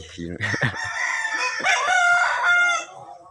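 A fighting rooster crows loudly up close, a long strained call with harsh squawking at the start.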